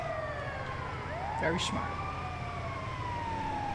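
An ambulance siren in Grand Theft Auto V wails in rising and falling sweeps over a low engine rumble, fairly close, with a brief voice speaking partway through.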